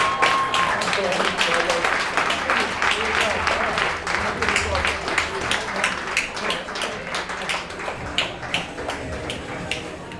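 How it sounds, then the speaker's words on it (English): Audience applause at a CEO Boxing event, a dense sustained patter of many hands clapping that fills the whole stretch with steady loudness, with voices mixed in among the crowd. "Give them that applause."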